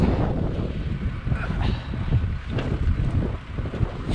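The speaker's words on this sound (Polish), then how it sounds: "Jeszcze ten wiatr, jest tak zimno przez ten wiatr." Gusty, cold wind blowing hard against the microphone on a farm while manure is spread, a low roaring rumble that swells and dips over a few seconds.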